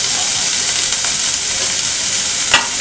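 Onions with ginger garlic paste frying in a pan, a loud, steady close sizzle with a brief stir scrape near the end, no talking.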